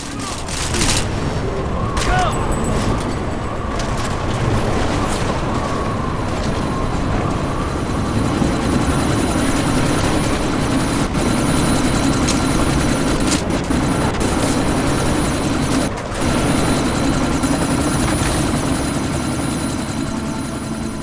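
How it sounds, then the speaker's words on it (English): A helicopter hovers in the video game Deus Ex: Mankind Divided during a sandstorm. Its loud, steady rotor roar fills the scene, with intermittent sharp cracks, like gunfire, cutting through. "you need to disable that chopper"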